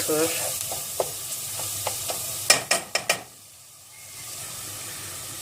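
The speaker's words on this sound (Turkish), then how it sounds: "Ve kekiğimiz ilave ediyorum. Ve çeviriyorum." Dry bean stew with meat and thyme stirred in a pot, a soft sizzle underneath a series of clinks and scrapes from a spoon against the pot, several quick knocks midway before the sizzle fades to quiet.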